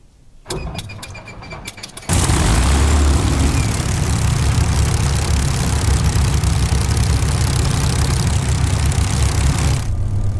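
A Spitfire's piston engine rumbles at a steady idle during a taxi at Fowlmere Airfield in Microsoft Flight Simulator. A few clicks come first, then a loud, constant drone holds until it cuts off near the end.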